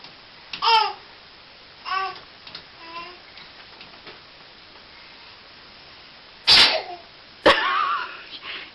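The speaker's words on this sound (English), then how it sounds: "You guys sneezed at the same time." Babies sneeze in quick succession, two sharp bursts close together near the end after some soft babbling, in a compilation of baby sneezes.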